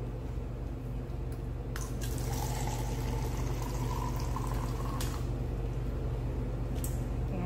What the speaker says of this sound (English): So I've got my water button here. I'm going to get us some water.